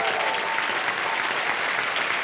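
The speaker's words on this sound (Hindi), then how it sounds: "तालियां बज जाए इनके लिए." Steady, dense applause from a sizable TV game show studio audience, even and sustained throughout, with no talking over it.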